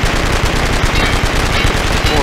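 Rapid automatic gunfire with seemingly endless ammo in the video game Blood & Bacon, a dense, loud, continuous stream of shots with no pauses, voices faintly mixed in.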